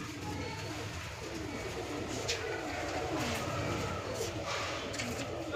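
Madrasi pigeons in a loft coo in a low continuous murmur under scattered flapping and rustling, with faint voices in the background.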